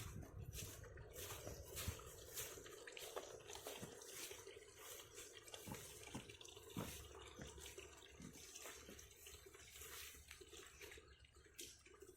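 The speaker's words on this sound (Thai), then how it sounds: "น้ำไหลเป็นทางนะครับเพื่อน" Rainwater running in a stream through a home garden where mushrooms grow after a night of heavy rain, a steady close trickle and splash with scattered drips throughout.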